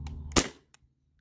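A single sharp pop from a Sabre 68 CO2-powered launcher firing a 9.9 gram riot ball, loud and close, followed by a faint click and a tiny tick in quiet.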